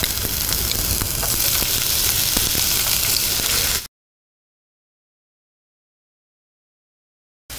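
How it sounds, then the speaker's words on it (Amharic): Onions fry in a pan on an Ethiopian cooking show, giving a loud, steady sizzle for about four seconds that cuts off into silence, with a brief return at the very end. "አሁን እዚ ላይ ሽንኩርት እናደርጋለን።"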